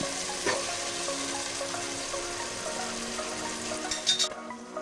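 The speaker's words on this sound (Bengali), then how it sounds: "আমি আগে এগুলা ভালোভাবে কষিয়ে নেব।" Spiced ingredients for Arabian chicken kabsa fry and get stirred in a pot, a close, steady sizzle with soft scraping and a brief clink of metal near the end.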